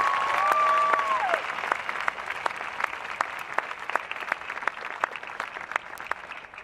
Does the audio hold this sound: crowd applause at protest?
yes